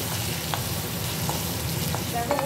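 Spice paste with green chillies sautéing in hot oil gives a steady, dense sizzle, with a few soft stirring scrapes near the end.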